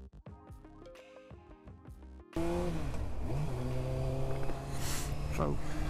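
Honda CB600F Hornet motorcycle engine setting off for a ride, loud and close, with throttle rises and a steady rumble after a quieter opening stretch.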